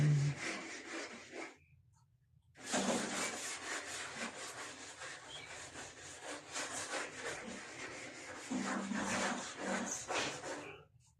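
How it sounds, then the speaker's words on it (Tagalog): Bathroom surfaces get scrubbed clean with a brush in long, steady rubbing strokes, close and fairly quiet, stopping briefly before resuming for a sustained run without talk. "Kuskus ko siya para malinis. Matanggal yung mga dumi-dumi niya."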